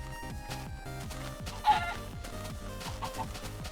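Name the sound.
chicken clucking in Minecraft video game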